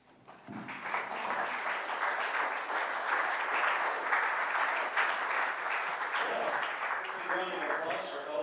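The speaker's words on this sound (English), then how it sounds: "Round of applause for El Presidente." An audience at a youth sports awards banquet breaks into sustained applause, building quickly and holding steady for several seconds, with some cheering mixed in and tapering near the end.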